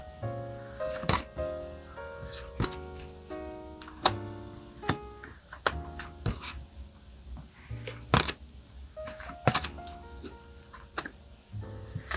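Tarot cards are shuffled and drawn, making scattered soft taps, flicks and slides at close range over quiet, gentle background music.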